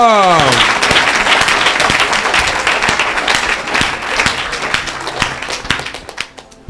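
A church congregation at a deliverance service claps and cheers, with loud, dense applause, whistles and shouting voices filling the room. The noise holds steady and fades slightly toward the end.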